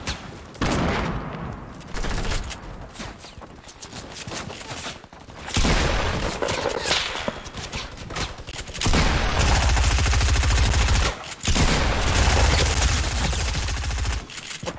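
Bursts of gunfire in a Fortnite match, with sustained rapid volleys and heavy repeated shots loud and close, alternating with short lulls, mostly without talk.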